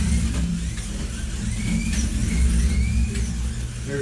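An NSR Mercedes AMG GT3 slot car laps a track with a steady low electric motor drone and whine, rising and falling slightly as it passes, with faint squealing tones, close and continuous.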